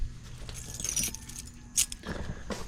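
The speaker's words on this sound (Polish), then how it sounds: "Kluczyki do samochodu są." Car keys jangle in a hand, giving several bright metallic clinks and rattles in short bursts, close and clear over a quiet background with faint traffic.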